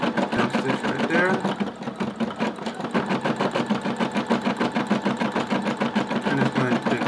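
A computerized embroidery machine sews a long jump stitch with a loud, steady, rapid needle chatter that runs continuously at close range.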